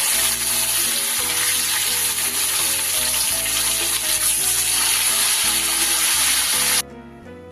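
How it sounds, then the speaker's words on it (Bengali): Pieces of bhola fish fry in hot oil over a high flame, a loud, steady sizzle with crackling and water-like hiss that runs continuously before cutting off sharply near the end. "সব মাছের পিসগুলোকেই কিন্তু আমি সুন্দর করে উল্টে পাল্টে লাল লাল করে ভেজে নিয়েছি"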